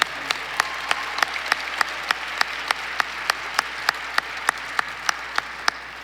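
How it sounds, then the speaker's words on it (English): Steady, evenly spaced claps ring out in a regular rhythm at an MLK Day celebration, about three per second, moderately faint over a soft background. "Clap for yourself, not for me."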